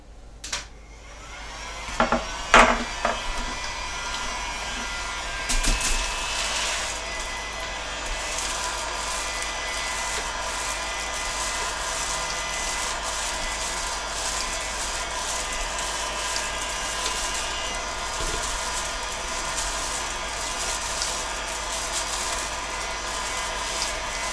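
A power tool whines steadily while cutting schedule 40 quarter-inch PVC pipe for a homemade bow, a loud continuous drone after a few sharp clicks and knocks at the start, with no talking.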